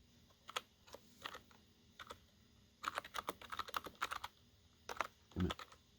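Typing on a SteelSeries Apex 100 keyboard during a Type Racer game gives quick, light clicks that come in irregular bursts and short flurries, close but fairly soft, with no voices.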